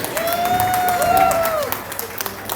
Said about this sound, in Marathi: जोरदार टाळ्या तुमच्यासाठी वाजवत आहे मी